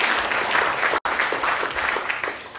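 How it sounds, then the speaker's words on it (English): A debate audience at Nudgee College's Great Debate 2018 gives a loud, sustained round of applause, dense clapping with a split-second dropout near the first second. "please give them a round of applause."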